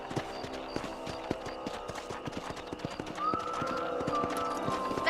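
A horse gallops in Red Dead Redemption, with rapid rhythmic hoofbeats thudding steadily throughout at moderate level and a faint tonal game sound rising in the second half.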